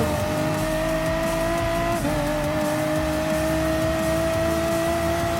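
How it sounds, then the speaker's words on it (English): A Lamborghini Huracan race car in the video game Gran Turismo Sport drones steadily at high revs, with a brief dip as it shifts gear, loud and continuous, with no talking. "here it goes, approaching on the Lamborghini Huracan"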